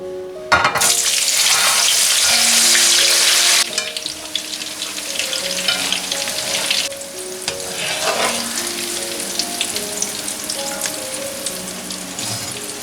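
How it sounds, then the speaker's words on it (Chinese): Eggplant deep-frying in oil heated to about 180 degrees, a loud bright sizzle that bursts in at first then settles into steady crackling and bubbling, close and alone without speech. "油温大概烧到180度才可以炸出浅金黄色"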